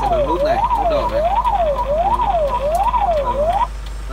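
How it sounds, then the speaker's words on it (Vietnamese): A warbling electronic alarm in a driving-test car at a test yard, triggered by pressing the red button, sweeping up and down in steady cycles for about three and a half seconds over engine hum before cutting off. "Rồi, nó kêu bíp này, các bạn sẽ tắt."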